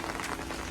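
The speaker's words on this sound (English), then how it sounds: "You can see the water is flowing down." Heavy rainwater runs down from poorly waterproofed construction in a dense, steady wash of splashing and trickling, close and continuous.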